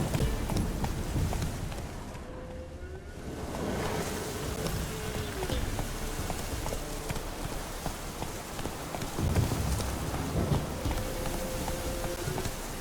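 The horse Roach gallops across the ground in The Witcher 3, hooves clip-clopping steadily and close under an even wash of ambient noise.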